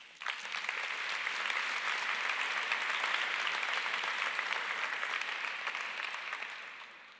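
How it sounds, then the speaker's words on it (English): A conference keynote audience claps warmly in a hall, the applause rising quickly, holding steady for several seconds and tapering off at the end. "I really like to welcome them with a big applause"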